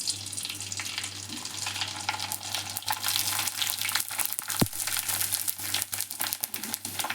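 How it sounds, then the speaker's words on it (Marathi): Sun-dried kurdaya, rice and potato crisps, deep frying in a kadhai of hot oil, a dense continuous sizzle and crackle with a few sharp pops, close and fairly quiet. "हे बघा कढईमध्ये तेल टाकले. आता तुम्हाला तळून दाखवते."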